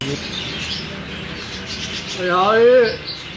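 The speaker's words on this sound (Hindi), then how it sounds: "जुरा ब्रीड के ये कबूतर हैं।" A Jura breed pigeon gives a short rising coo near the end, close and fairly clear over a soft, steady background of rain just beginning to fall.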